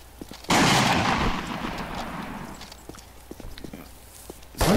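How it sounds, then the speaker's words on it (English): A sniper rifle fires in the combat game Iron Front, giving a sharp report followed by a long rolling echo. Scattered faint clicks and footsteps follow, then another burst starts at the very end. "Sounds like a sniper."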